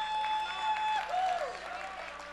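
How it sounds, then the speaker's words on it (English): Applause and cheering from a crowd at an MLG Las Vegas 2008 Nationals award ceremony, fairly steady, with a tonal electronic hum running underneath. "Give him a round of applause, y'all."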